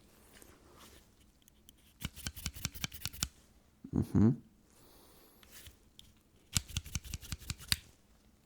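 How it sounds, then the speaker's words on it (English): Scissors snipping close to the ears during an ASMR cranial nerve exam, in two bursts of rapid crisp snips separated by quieter rustling, with a soft murmured reply from a voice. "Can you tell me when you hear a snipping"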